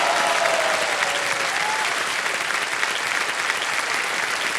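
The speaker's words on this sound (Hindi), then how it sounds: "ताली बजती रहे इनके लिए," Studio audience applause on the KBC quiz show set, a dense, steady clapping from a large crowd that stays loud and even throughout.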